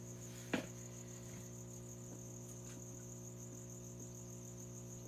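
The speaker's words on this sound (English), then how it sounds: "Crickets loose on the floor." Loose crickets chirping across the floor of a reptile room, a steady high continuous trill with a few fainter chirps, plus one brief sharp knock near the start and a low constant hum underneath.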